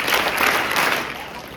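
A middle school audience at a student candidate speech event breaks into applause, a brief dense burst of clapping that fades over under two seconds.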